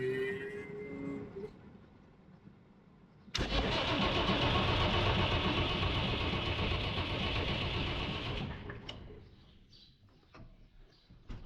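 A tractor engine, cranked during home servicing, catches abruptly and roars close and loud for about five seconds before shutting off, leaving quieter mechanical clicks and rustles afterward.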